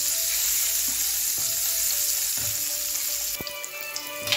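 Paneer fries in a hot pan with a dense, steady sizzle, broken by occasional stirring clinks and scrapes close by, no talking.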